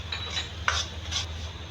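Semolina is roasted in oil in a pan and stirred by hand, with short, rhythmic scraping strokes close by over a low background hum.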